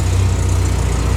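A Morris Minor with a new 2¼ inch exhaust idles steadily, a loud, low, even engine rumble with a regular pulsing beat and no other sound.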